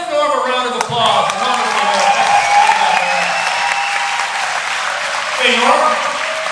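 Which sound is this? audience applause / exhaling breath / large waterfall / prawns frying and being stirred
audience applause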